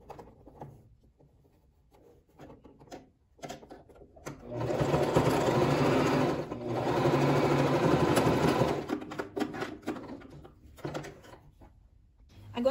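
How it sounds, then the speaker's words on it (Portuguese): A domestic sewing machine stitches fabric for a recycled-materials storage holder, running in two sustained bursts of rapid, close mechanical whirring separated by a brief pause, with quieter handling rustles and clicks before and after. "já passei lá na máquina, já costurei"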